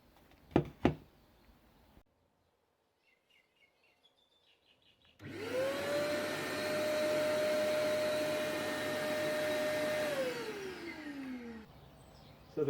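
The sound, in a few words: shop vac vacuum cleaner switched on remotely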